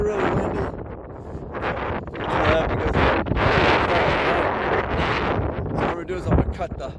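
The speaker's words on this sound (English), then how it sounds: "it's really, really windy." Strong wind buffets a microphone in gusty, rumbling bursts that swell and ease for several seconds.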